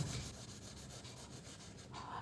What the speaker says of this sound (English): So let me now color this tree green.